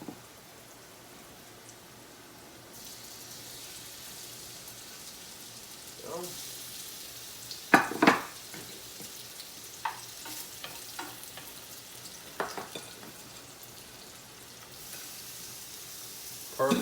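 Shrimp sizzle in a pan of melted unsalted butter and bacon fat, a quiet steady fry with a few sharper crackles and stirring clicks as they are moved around.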